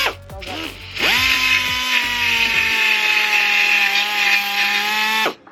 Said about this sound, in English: it's a belt sander. Very old school looking belt sander